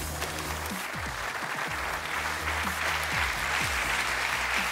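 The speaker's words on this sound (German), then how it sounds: "Ja, Applaus für die Jungs" Sustained applause from a television sports studio audience, steady and full, with faint voices underneath throughout.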